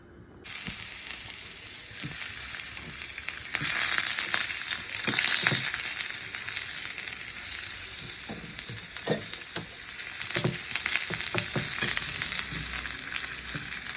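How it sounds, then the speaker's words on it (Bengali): Steady, loud sizzling of ready-made seekh kebabs, steamed first in hot water, frying in hot oil, with occasional scraping and stirring clicks, no voices. "তো এগুলো একটু গরম জলে ভাপিয়ে নিয়েছি, এখন ভাজবো"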